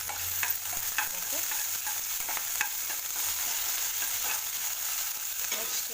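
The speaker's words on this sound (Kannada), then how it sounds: "ಸ್ವಲ್ಪ ಹಸಿ ಖಾರ ಹಾಗೂ ಸ್ವಲ್ಪ ಕರಿಬೇವು ಹಾಕ್ಕೊಂಡು ಮತ್ತೆ ಬಾಡಿಸ್ಕೋಬೇಕು" Green chili and curry leaves crackle quietly as they are sautéed in a pan, giving a soft continuous sizzle. Scattered light scrapes and taps from stirring recur throughout, and there is a single brief spoken word.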